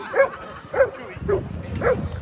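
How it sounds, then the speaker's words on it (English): A Bernese mountain dog puppy gives four short, high yipping barks at a steady rhythm, close and fairly loud, with faint background noise between them. "There's another puppy."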